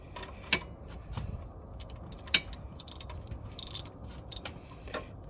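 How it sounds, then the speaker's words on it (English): A socket wrench loosens the oil drain bolt under an Infiniti G37, giving scattered sharp metallic clicks and ratchet ticks against quiet garage background, with one louder clack near the middle. "get your drain pan, the right socket for this, and then we'll just go ahead and open it"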